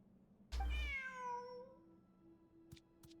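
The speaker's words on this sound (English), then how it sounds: "Look, a cat." A cat in the video game Genshin Impact gives one clear, rising-then-falling meow up close, followed by faint ambient game sounds and a couple of soft clicks.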